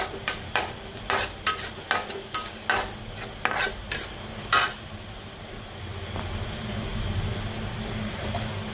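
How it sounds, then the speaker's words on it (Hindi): Minced meat and tomato masala being stir-fried in a pan: a rapid series of sharp spatula scrapes and knocks against the metal, then a steady low sizzle once the stirring stops. "कीमा टमाटर डाल दिए और मैंने इसको काफ़ी देर तक के लिए भून दिया।"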